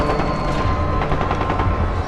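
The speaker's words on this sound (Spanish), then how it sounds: "Y entonces empiezan los primeros disparos." Sustained burst of gunfire opening on a crowd at the Tlatelolco massacre, dense overlapping shots rattling continuously like a fusillade, loud and chaotic throughout.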